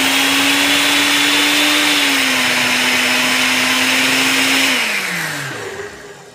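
A loud blender whirs steadily as it purées a thick chicken mixture for sugar glider food, the motor holding a constant pitch before winding down and slowing toward the end.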